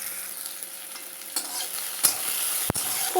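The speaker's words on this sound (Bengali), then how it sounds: "এই পেঁয়াজটা ভেজে নেব।" Onion fries in oil in a wok for egg curry, a constant close sizzle that swells louder midway, with a few sharp scraping strokes of a spatula against the pan.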